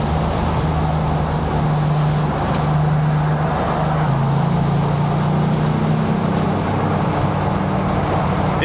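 A 1963 Chevrolet Corvair's rear-mounted engine drones steadily while downshifting, its pitch sliding lower, under constant road and wind roar heard from inside the car.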